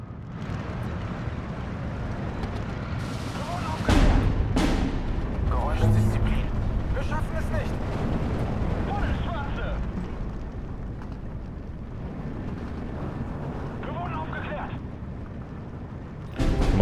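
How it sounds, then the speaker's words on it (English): Anti-aircraft fire from a pair of Gila vehicles in the Steel Division 2 strategy game: loud booming bursts around the fourth and sixth seconds over a continuous rumbling battle bed, with a voice talking throughout. "Let's just get both the Gila to fire here."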